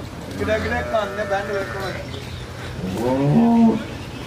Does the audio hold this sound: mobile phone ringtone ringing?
no